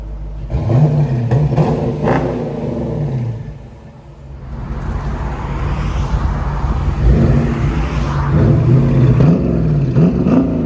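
A 2023 Dodge Challenger 345 with a 5.7L HEMI V8 and Flowmaster Super 10 exhaust revs up close, deep rumbling blips rising and falling in repeated bursts over a steady idle, loud and without talk.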